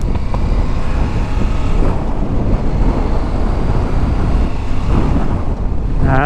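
Cold wind roars and buffets against a rider's microphone on a CFMOTO 800MT motorcycle, a loud, steady, unbroken rush of noise for the whole stretch with no voice.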